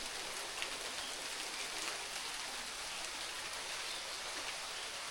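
Steady heavy rain pours during a storm, a dense, even hiss of drops with no breaks and no voices.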